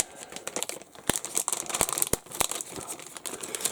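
Resealable plastic bags holding AMK 1/48 Kfir model kit sprues are handled up close, producing quiet, irregular crinkles and crackles with several sharper snaps, and no speech.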